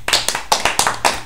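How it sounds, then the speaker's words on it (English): A class clapping for a student, a short burst of about eight to ten sharp, close handclaps in an irregular rhythm. "Can you clap for her, please?"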